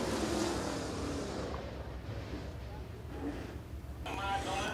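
Race car number 88 circles Rome Speedway in qualifying, a steady engine roar mixed with crowd and track noise, the level holding fairly even before rising near the end.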